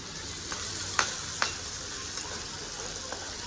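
Ginger garlic paste frying with chicken in a pan gives a steady close sizzle, broken by a few sharp stirring clicks and scrapes of a spoon against the pan, fairly quiet, with no voices.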